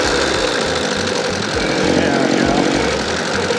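A homemade go-cart engine runs loud and close, a rough steady idle with knocking low pulses and broad mechanical noise, while someone speaks briefly over it.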